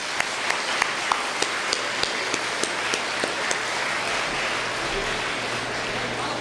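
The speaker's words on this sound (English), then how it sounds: "So a round of applause." Applause from an audience at an engineering college event hosting a space technology talk, a moderately quiet wash of clapping with a few sharper individual claps and a low background hum.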